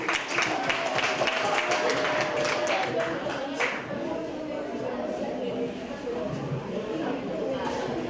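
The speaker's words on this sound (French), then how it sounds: "Applaudissez pour eux." Applause from a school audience at a student quiz contest keeps up steadily throughout, dense and fairly loud, with speech mixed in and a slight dip midway.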